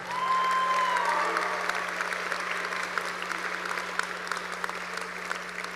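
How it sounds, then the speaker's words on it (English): Crowd applause at a 2025 high school graduation ceremony, a broad sustained patter of many hands heard from a distance over a low steady hum, swelling early then gradually thinning. "please clap it up for him"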